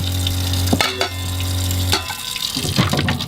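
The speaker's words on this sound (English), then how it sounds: "I'm not doing a great job of conserving water right now" Water from a tap runs and splashes as dishes are washed in a tiny bus kitchen, a steady close-up gush with clinks and shifting splashes as items move under the stream, without talk.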